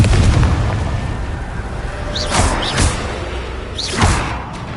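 Confringo blasting spells explode in Hogwarts Legacy, two or three loud booming bursts at intervals over a rumbling game backdrop.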